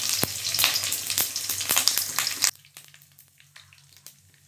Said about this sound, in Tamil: சோம்பு கடுகு போட்டுக்கலாம் கருவேப்பிலை போட்டுக்கலாம்